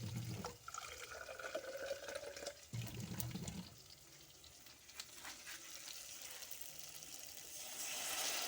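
Water running from a tap into a cooking pot in a home kitchen, a steady splashing pour that stops and restarts once, then softer trickling and background noise.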